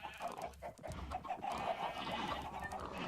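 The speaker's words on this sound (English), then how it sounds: "And now those chickens are everywhere." Chickens cluck and squawk in the Minecraft video game, a steady, busy flock sound that fills the whole short stretch with overlapping bird calls.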